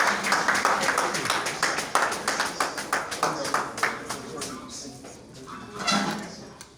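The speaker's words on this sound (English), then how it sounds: "Keep clapping, keep clapping." Audience at an award presentation honoring a late man's widow claps in a steady run of sharp, close claps that fades toward the end, with a voice briefly audible near the end.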